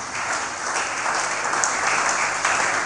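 Congregation clapping during a live-streamed church sermon, a steady burst of applause filling about three seconds, close and fairly loud.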